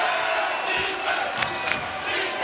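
Basketball arena crowd at an SMU versus Cal men's college game roaring loudly and steadily, a dense, sustained cheer with brief peaks.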